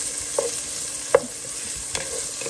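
Ginger goes into chicken tinola with malunggay and chayote in a cooking pot, bringing a soft background sizzle and a few light stirring clinks spaced about a second apart.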